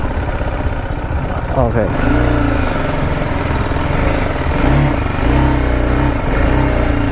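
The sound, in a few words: BMW G 310 GS motorcycle engine revving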